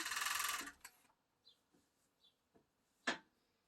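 A serger sews thin fabric for romper bottoms in a brief, fast whirring burst up close, followed by soft scattered clicks and ticks in a quiet room.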